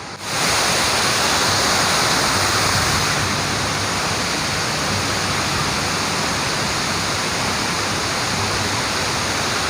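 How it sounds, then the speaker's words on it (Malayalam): Thooval waterfall in Idukki, Kerala pours in a loud, steady roar of rushing water, a dense unbroken wash that holds even throughout with no voices. "ഇതാണോ വെള്ളച്ചാട്ടം കണ്ടോ?"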